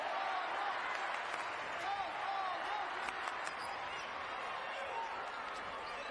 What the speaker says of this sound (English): The fans cheering España.